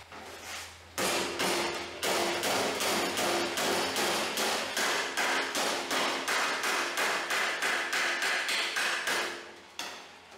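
A hammer pounds a rusty metal sun visor for a rat rod as it is bent over a clamped three-and-a-half-inch pipe, about two dozen loud, evenly spaced ringing blows in a steady rhythm, with no talk.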